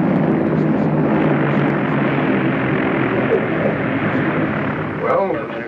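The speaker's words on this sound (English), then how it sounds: "Approaching the end of runway. On course on the glide path. Now start breaking your glide. Take over visually now and complete your landing." A steady, loud drone of a propeller aircraft engine holds throughout as the plane comes in to land on a runway after a ground-controlled approach, with a slight swell near the end.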